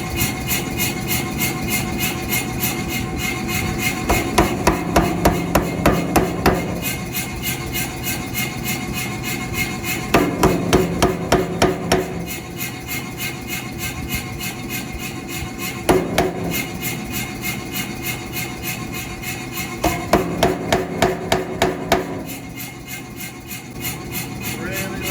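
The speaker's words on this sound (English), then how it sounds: "We're going to go ahead and use the power hammer" A power hammer pounds hot steel while forging box jaw tongs at a blacksmith's shop, delivering rapid bursts of heavy rhythmic blows every few seconds over a steady machine hum.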